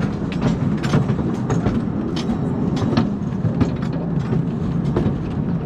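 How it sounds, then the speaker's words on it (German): A small park railway locomotive rumbles steadily on a turntable, with a continuous low mechanical drone and faint metallic clicks and creaks over it. "Da wird die Lok gedreht."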